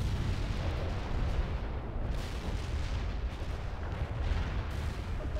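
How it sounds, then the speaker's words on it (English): A missile launch in the war strategy video game World in Conflict: a loud, continuous roaring rumble with booming bursts, sustained and heavy throughout, no talk. "Command reports the missile has been launched."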